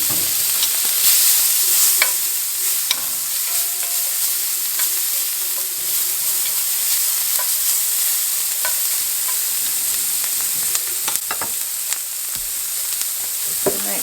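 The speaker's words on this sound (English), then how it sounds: "Now I'm going to put the onions in there. And let them cook just a few minutes." Onions cook in oil in a pan alongside browned meat, giving a steady loud sizzle with occasional stirring clicks and scrapes throughout and no talk.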